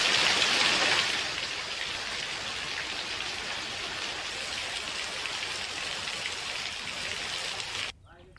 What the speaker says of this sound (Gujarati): વહેલી સવારે વરસાદ વરસતા વાતાવરણ ખુશનુમા થયું